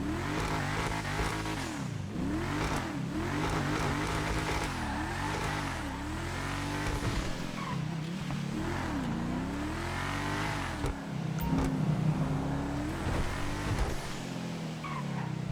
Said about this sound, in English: let's go ahead and just take a quick listen to the Enus Paragon R